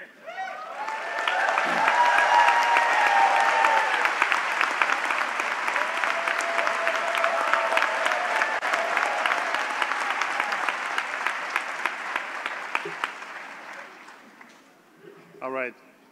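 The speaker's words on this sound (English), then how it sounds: "give yourself an amazing applause as you do this" Graduates applauding at a college convocation, a large crowd's dense, sustained clapping that swells quickly, holds for over ten seconds and fades out, with a voice heard briefly at the end.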